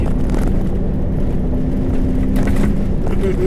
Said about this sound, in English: That's an intake noise.